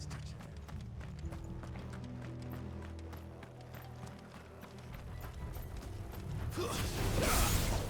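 Several horses gallop in Final Fantasy XVI with rapid rhythmic hoof clatter and creaking gear, and a swelling rush of noise near the end.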